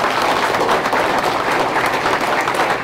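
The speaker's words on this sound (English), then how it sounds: "Let's give him a round of applause." Applause for a congressman at a senior center breakfast gathering, a dense, steady round of clapping from the audience in the room that holds at an even level for the whole stretch.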